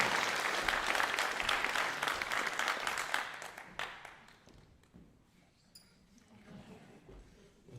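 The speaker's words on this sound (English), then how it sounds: "Please give Paul a round of applause." Audience applause at a graduation ceremony as a scholarship donor comes up on stage, a loud crowd clapping for about four seconds, then thinning into scattered claps and quiet room noise.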